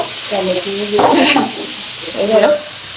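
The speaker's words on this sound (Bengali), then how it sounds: "দুপুরে রান্না বান্না আজকে হচ্ছে মাছ ইলিশ মাছ ভাজি করছে" Hilsa fish frying in oil for a home lunch, giving a steady broadband sizzle with brief louder crackles and scraping, while a voice can be heard faintly now and then.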